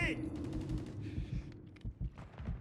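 Gunfire in a Call of Duty MW3 match, with several quick muffled shots and bursts mixed with game effects and a low rumble, fairly faint, while a voice talks over it.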